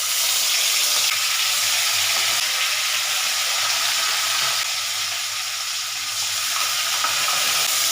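Gobindabhog rice dry-frying in a pan with a pinch of salt, giving a steady, close hiss that stays even throughout with no voices.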